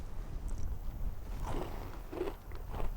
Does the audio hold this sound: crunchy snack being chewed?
yes